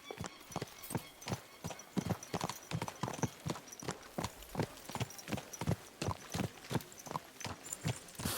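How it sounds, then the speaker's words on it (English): Horse hooves clip-clop in a steady walking rhythm, each step crisp and distinct, close by with little else around them, in the video game Kingdom Come: Deliverance II. "What a beautiful horse."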